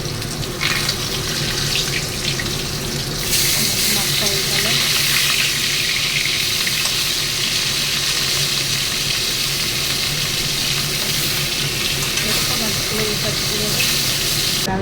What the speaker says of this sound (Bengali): জিরে আর একটু একটা শুকনো লঙ্কা একটু দারচিনি ফোড়ন